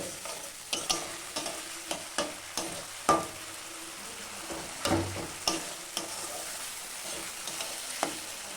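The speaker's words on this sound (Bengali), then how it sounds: "ততক্ষণ আমরা এই মশলাটা ভালোভাবে কষিয়ে নেব" Spice paste for vegetarian pea ghugni sizzles in hot oil while a spatula stirs it, with a soft frying hiss under regular, close scraping strokes.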